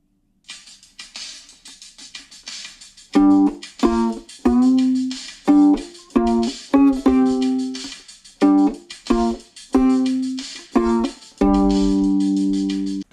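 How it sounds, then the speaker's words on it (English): Plucked violin chords played in rhythm along with a drum machine on a phone, quiet at the start and then a steady run of sharp plucks, closing on a longer ringing chord, close and clear. "And I can even play that song with the drum machine I have on my phone."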